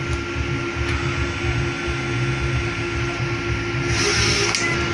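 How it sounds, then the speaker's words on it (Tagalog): Inkjet printer running a nozzle test after head cleaning, a steady close mechanical whir with a faint high tone, a couple of soft clicks, and a brief louder swish near the end. "So head clean po. So nozzle test po."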